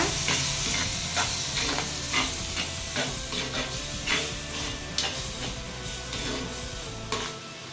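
Ground tomato sautéed in a pan for egg thokku hisses and sizzles continuously while a spoon scrapes through it in a steady, repeated stirring rhythm, close up and fairly loud, with no voices.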